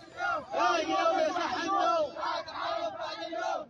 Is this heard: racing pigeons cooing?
no